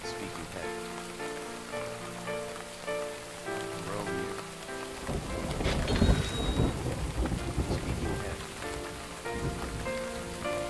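Thunder and rain from a VR fishing video game on a river: a steady rain wash with a louder, close thunder burst midway that rolls on, mixed with game music tones.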